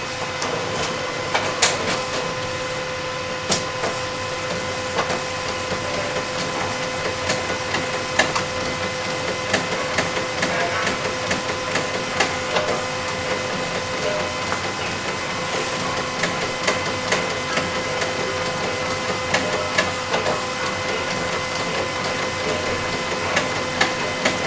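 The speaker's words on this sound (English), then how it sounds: "I'm going to go ahead and click print" A printer runs through a sublimation print of a phone case design, a steady mechanical whir with faint repeated clicks and carriage ticks throughout, close and moderately loud, with no speech.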